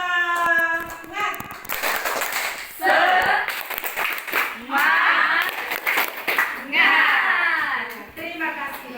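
A group of people performs the 'tepuk semangat' spirit clap at a school workshop: patterned hand claps alternate with loud group chanting in rhythmic bursts, close by.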